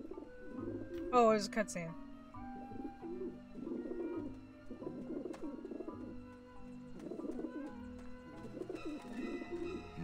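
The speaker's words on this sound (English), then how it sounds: "Ah, the pigeons obviously like this dish vent." Pigeons coo in the Grim Fandango game near a dish vent, a soft repeated cooing under continuous game ambience, with a person speaking briefly over it.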